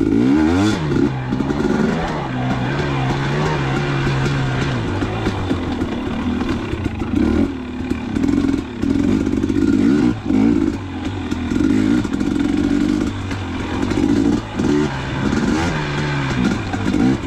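A KTM 250xc dirt bike ridden along wet, muddy, leaf-strewn singletrack over roots, its two-stroke engine buzzing loud and near, rising and falling with the throttle, with occasional clatter from the terrain.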